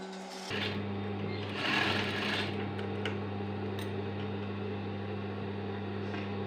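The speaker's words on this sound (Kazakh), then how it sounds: "Енді бізде мына сары матамызға жасыл тігетін боламыз." A sewing machine runs steadily, stitching green fabric onto yellow, with a constant whirring motor hum and rapid needle clatter, close and even throughout after a short start.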